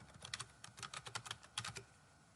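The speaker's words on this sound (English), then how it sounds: "click in that box if you need to, and type Google Drive" Rapid keystrokes on a computer keyboard, a quick irregular run of soft close clicks in two short bursts with a brief pause between, quiet and with no voice over them.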